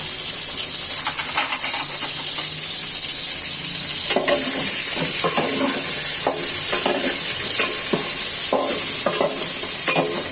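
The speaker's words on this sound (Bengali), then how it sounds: "প্রথমে আমি মাছগুলো একটু হলুদ টলুদ ছাড়া কষিয়ে নিব" Rui fish pieces fry in hot oil in a pan, giving a loud, constant sizzle and hiss with occasional stirring scrapes, no voices.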